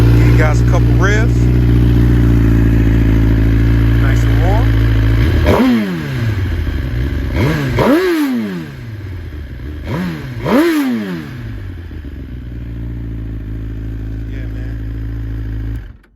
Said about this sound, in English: Give you guys a couple revs.